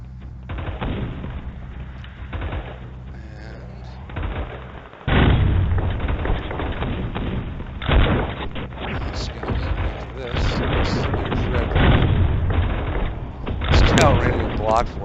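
Heavy cannon fire in the mech video game M.A.V., with repeated booming shots and steady battle rumble; one sharp blast and several bursts stand out, while a player talks over much of the action.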